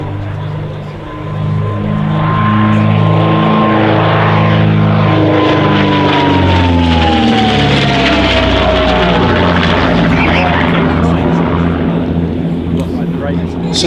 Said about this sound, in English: Rarely is an aircraft designed for such a specific purpose as the Comet.